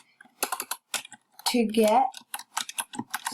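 Clicks of typing on a computer keyboard come in quick irregular bursts, close by, while a voice briefly speaks in the middle.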